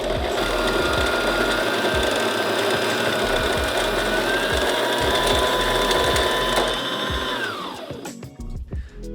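A Brother sewing machine runs steadily and loudly with a fast mechanical whir and rhythmic knocking, then winds down and stops near the end.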